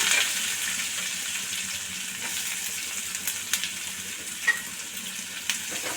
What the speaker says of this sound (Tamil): இப்போ இதில் வெங்காயம் சேர்த்துருவோம் வெங்காயம் சேர்த்து கொஞ்சம் நல்லா கிண்டி விட்டுக்கோங்க